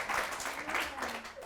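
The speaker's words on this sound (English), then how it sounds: "It's just okay to clap." Brief applause from a gathered audience, soft scattered clapping with gentle swells, fairly quiet and somewhat distant, lasting only a moment.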